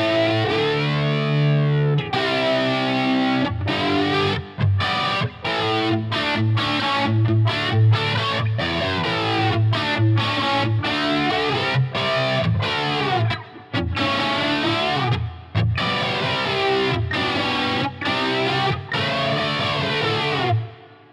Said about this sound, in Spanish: Esta vez sí que tiene distorsión, ¿eh? Y es ese sonido flanger que habitualmente asociamos a un avión.